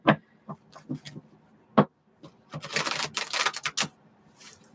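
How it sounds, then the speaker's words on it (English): A deck of cards is shuffled, with a few sharp taps and clicks followed by a dense, crackling riffle burst near the mic that ends in a couple of final snaps. "these cards are getting hard to shuffle"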